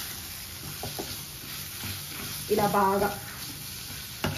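Spinach and coconut fry being stirred in a hot pan, a short burst of sizzling and scraping rising midway through, with someone speaking briefly over the low cooking noise.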